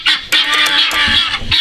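Farm chickens cluck in a coop, a close, loud chorus of overlapping clucks and squawks filling the short stretch without speech.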